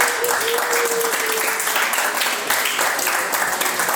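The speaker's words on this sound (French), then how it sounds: "Est-ce qu'on peut applaudir pour ici?" Festival audience applauding in a dense, steady wash of clapping that fills the whole stretch at close range, with no voices standing out.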